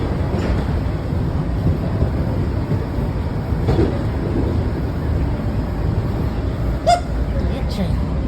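Washington Metro Silver Line train rumbling along with a steady, heavy low roar that fills the whole stretch, a faint brief voice surfacing near the end.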